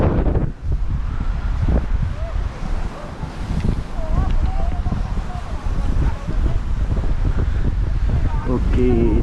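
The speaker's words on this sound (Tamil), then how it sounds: "காற்று நல்லா அடிக்குது இந்த இடத்துல" Strong wind buffets the microphone at the Belwood viewpoint in Sri Lanka, a steady low roar with gusty surges and rustling throughout, and faint voices now and then beneath it.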